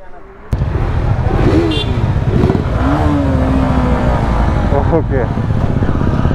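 A group of motorcycles pulls away at close range: Bajaj Dominar, TVS Apache, KTM RC390, Royal Enfield Bullet and Hero Xtreme X-Blade. The engines rumble and rev steadily and loudly, and a short spoken word comes early.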